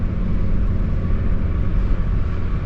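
A turbocharged 8th gen Honda Civic running on E85 fuel is given a little gas, its engine droning in a loud, steady low rumble that holds without a clear rise.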